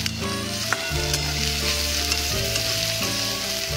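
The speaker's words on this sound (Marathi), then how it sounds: "आपला कांदा सोनेरी भाजून झालेला आहे" Onion fries in a pan until golden, giving a steady, close sizzle with a soft bubbling crackle that carries on without break.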